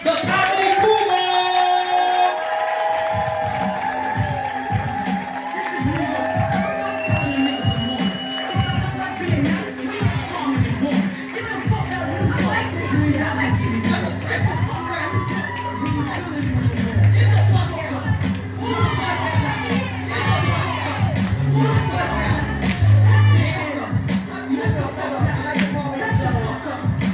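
A comedy club crowd in Harlem claps and cheers for a female comedian at a ladies night show, with loud sustained applause, whoops and shouts carrying on throughout, and some chatter and a voice over it.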